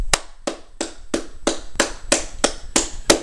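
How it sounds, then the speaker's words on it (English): Nine or ten slow, evenly spaced hand claps from a single person, close and crisp, alone without talk. "clap it up for that performance"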